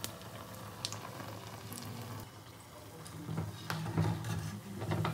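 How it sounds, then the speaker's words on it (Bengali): Adosha pitha batter fries in hot oil with a faint, continuous sizzle and light crackles that swell slightly toward the end, heard close and with no talking. "খুব ভালো করে এটাকে ভেজে নেবো আমি।"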